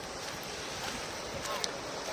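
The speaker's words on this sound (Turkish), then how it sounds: "Bakın arkamda deniz." Sea waves wash onto the shore at Incekum forest campsite beach, a steady, fairly soft surf hiss blended with wind buffeting the microphone.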